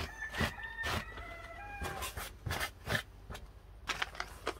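A rooster crows in the distance amid other bird calls and faint outdoor ambience, with some scattered knocks nearby.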